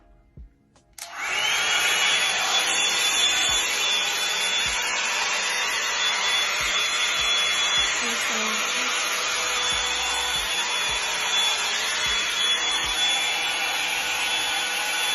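A Revlon One-Step blow dryer blows steadily on hair, a loud, continuous close-up rush of air that starts abruptly after a second of near-silence and holds evenly to the end.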